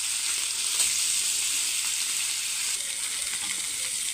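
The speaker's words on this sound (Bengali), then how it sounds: "মাছটা ভেজে নিচ্ছি আগে।" Spice-marinated katla fish frying in hot oil, a steady, even, close sizzle that holds at the same level throughout with no voices.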